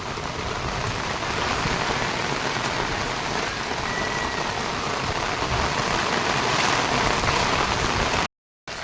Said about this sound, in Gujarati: વરસાદ પણ વધી ગયો છે